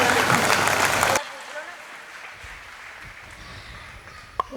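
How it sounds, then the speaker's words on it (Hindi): Audience applause at a Jain women's values conference in Ahmedabad, a dense burst of clapping lasting about a second before cutting off, leaving a quieter room with faint murmurs and a brief sharp knock. "जोरदार तालियों से स्वागत करेंगे"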